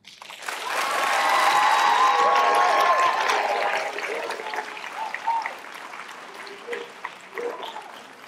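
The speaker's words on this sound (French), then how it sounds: "des applaudissements conclusifs et tonnants" Thunderous closing applause from the audience at the final of a high-school students' eloquence contest, swelling quickly into a loud, dense roar of clapping with some vocal cheering, then thinning out and tapering toward the end.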